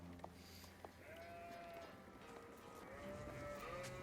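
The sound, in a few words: sheep in the video game Age of Empires 4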